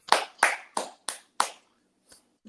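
Five sharp hand claps in an uneven rhythm, close and fairly loud, then a pause and two fainter taps near the end, a small round of applause with no talk over it.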